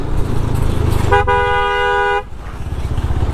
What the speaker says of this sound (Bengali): এই জন্য হচ্ছে হাইড্রোলিক হর্ন লাগানো